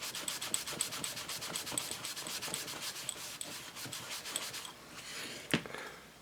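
Rhythmic back-and-forth rubbing of the most abrasive polishing compound across a ceramic plate to scrub out knife scratch marks, steady close strokes with a brief sharp scrape near the end, no talking.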